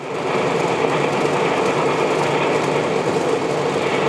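A train rumbles past steadily, a loud continuous roar of wheels and carriages with no breaks or voices.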